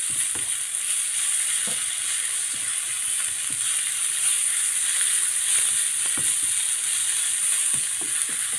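Leeks and onions sizzle in a pan with poultry broth and aromatic herbs, a continuous hissing bubbling with faint scattered clicks, steady and close throughout.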